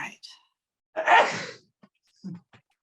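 A single sharp sneeze sounds clearly from someone in an office during an online meeting, with a faint intake of breath and a few soft sounds around it.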